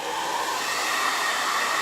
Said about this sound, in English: I have an old blow dryer. So I'm gonna blow dry for just a minute, so it's gonna get loud